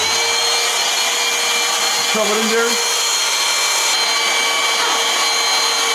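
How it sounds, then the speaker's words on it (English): A vacuum cleaner sucks food debris off a messy bedroom floor, producing a loud, steady, continuous whine and roar throughout, with a brief spoken remark in the middle. "Vacuum inside here, get all that food out. And also vacuum the floor because it's a mess."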